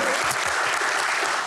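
An audience at a panel event on farming claps warmly to welcome a guest, a brief, dense burst of applause that stays loud and steady from start to finish.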